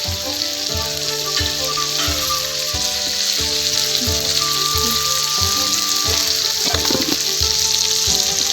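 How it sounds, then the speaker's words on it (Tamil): Continuous sizzling of mango pieces sautéing in a hot pan, with light stirring sounds and music playing in the background. "மாங்காய் நல்லா சேர்த்து வதக்கலாம்"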